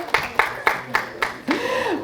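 Audience applause at a conference talk, a few separate sharp claps spaced about a quarter second apart, followed by a brief voice.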